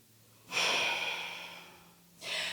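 Deep breath taken during a yoga low lunge: a long, airy inhale swelling up and slowly fading, followed after a short pause by a second shorter breath, close and alone over a low hum.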